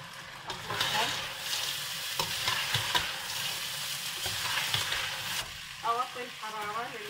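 Rice sizzles steadily as it fries in oil with salt and black pepper, a spoon scraping and stirring through it in repeated strokes, close and fairly loud, with a voice briefly audible near the end.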